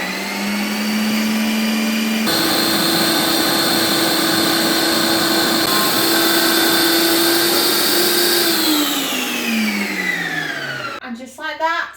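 A Ninja Creami blender-style machine runs its smoothie bowl setting on strawberry and banana, a loud steady motor whir with rising and falling pitch shifts as the blade descends, then winding down and stopping near the end.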